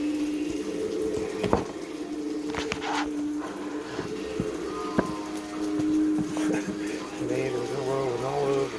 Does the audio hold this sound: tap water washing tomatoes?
yes